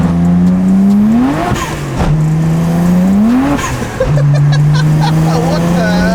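A BMW 335i with the N54 engine, running without anti-lag, pulls hard in second gear. The loud, close engine note climbs in pitch three times between shifts, with voices talking over it.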